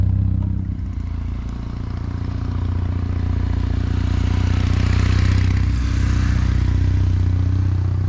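A 2022 Kawasaki Meguro K3 motorcycle engine running steadily, a loud continuous low rumble with mechanical clatter that holds throughout.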